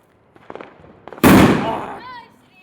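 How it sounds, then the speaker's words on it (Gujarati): A Diwali firecracker bursts with one sudden loud bang that crackles and decays over a second, after some quiet shuffling and voices. "અમે પેલો ફટાકડો ફૂટવા જઈ રહ્યો છે"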